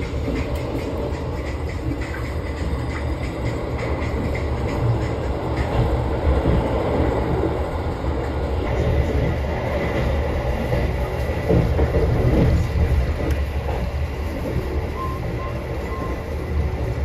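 A KA Taksaka Executive New Generation passenger train runs on rails, heard from inside the carriage near the door above the wheels: a continuous close rumble with rhythmic rattling and faint clatter, steady throughout.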